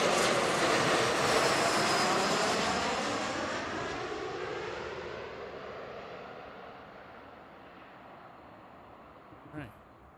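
An airliner arriving at Seattle-Tacoma airport on a flight from Orlando: a loud, steady engine roar that slowly fades as it passes, heard from nearby with no talk over it.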